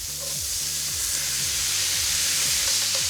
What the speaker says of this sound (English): We're just gonna saute this bacon